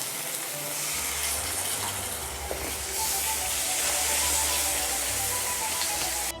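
Water is poured into a pan of frying spices (turmeric and Kashmiri chili powder) while cooking koi fish with taro, producing a loud, continuous sizzling hiss and gush up close, without talk.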